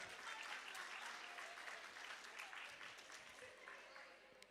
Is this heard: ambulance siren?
no